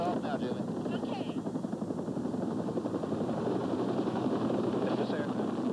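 A medical rescue helicopter in flight produces a steady, continuous rotor and engine drone, with faint voices talking underneath.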